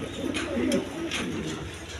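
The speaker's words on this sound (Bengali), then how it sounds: "বন্ধুগণ এখানে এক পেয়ার পাঞ্জা কবুতর আছে দেখেন একদম বিগ সাইজের" A pair of big Panja breed pigeons coo softly in low, rolling murmurs, with a steady background hum and no talking over them.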